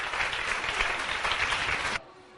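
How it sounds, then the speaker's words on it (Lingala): Applause from a crowd at a prize-giving ceremony: dense, steady clapping for about two seconds that stops abruptly, leaving quiet room tone. "Applaudissements."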